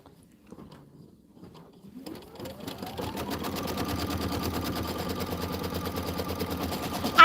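An embroidery sewing machine starts up after a quiet, fumbling moment and speeds into a steady rapid stitching rattle while placing the background fabric in the hoop for a quilted snowman pillow block.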